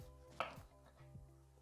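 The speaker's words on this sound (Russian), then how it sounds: "Берем вкусные спелые яблочки и нарезаем на пластинки." A knife slices ripe apples into thin half-centimetre pieces on a board, with one crisp close cut followed by a fainter second one over a quiet low hum.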